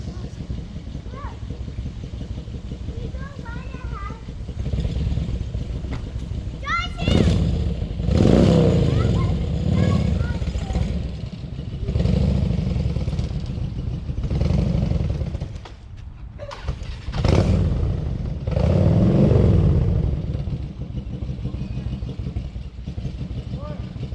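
A motorcycle engine idles and revs close by, its steady rumble swelling in repeated throttle bursts through most of the stretch, with voices talking faintly underneath.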